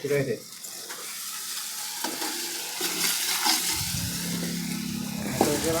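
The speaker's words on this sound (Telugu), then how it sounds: "ఓకే చికెన్ వేస్తున్నాం. ఇప్పుడు చికెన్ వేస్తున్నాము." Chicken pieces hit a hot pan of ginger paste and turmeric and set off a loud, close, crackling sizzle. The frying builds and continues with stirring noises and a steady tonal hum underneath.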